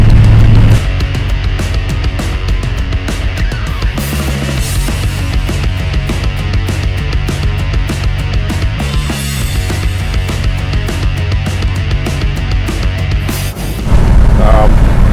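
A 1973 Dodge Dart Swinger rumbles loudly with its exhaust pipes opened, a steady, deep engine drone that swells briefly a couple of times while driving.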